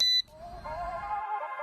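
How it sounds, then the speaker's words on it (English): A brief, sharp electronic beep from a Limitless 4 drone remote during gimbal calibration, one short high tone, then a softer sustained tonal chime that lingers to the end. "holding the speed button down on the remote for 5 seconds until you hear a beep"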